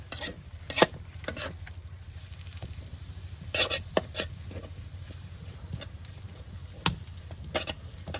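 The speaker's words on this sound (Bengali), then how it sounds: "এখন মরিচটাকে শাকের সাথে ভালো করে উলট করে দেওয়া হইতেছে" Moringa leaves being turned with dried chili in a pan over a village cooking fire: soft, intermittent scraping and rasping strokes of a utensil against the pan, with a steady low background hum.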